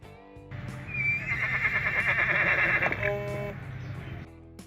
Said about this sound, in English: so yes, that was the sound of a horse.